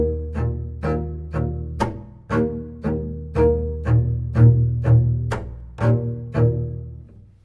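A bowed double bass playing a short, percussive chopping groove in an uneven seven-beat pattern, each stroke a sharp low attack, close and solo.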